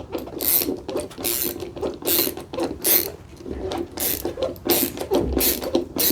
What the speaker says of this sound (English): place the bracket there on the wall, begin to screw